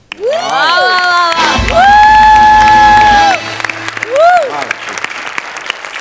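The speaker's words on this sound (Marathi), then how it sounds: "आणि मी उभा राहून टाळ्या वाजवतो" A studio audience at a Marathi comedy sketch show bursts into a short round of loud clapping, mixed with whoops and drawn-out vocal shouts that rise before and after it.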